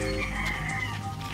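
Farm chickens cluck and crow amid a dense, noisy outdoor background, the birds fairly close but blended into steady ambient noise.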